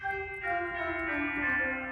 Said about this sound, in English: you're gonna hear like chimes, like church chimes.